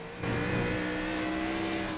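A race car engine in a racing video game at Watkins Glen cuts in abruptly and holds a loud, steady tonal whine with a slight shift in pitch as it changes gear.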